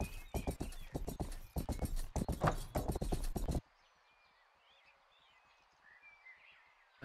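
Horse hooves clip-clop in a steady, rapid rhythm while riding in the medieval video game Rustler, loud and close for a few seconds, then cut off abruptly and leave faint birdsong.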